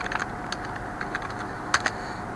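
Keystrokes on a computer keyboard as a date is entered into a spreadsheet cell, a handful of quiet, irregular clicks in two small bursts over a low steady room hum.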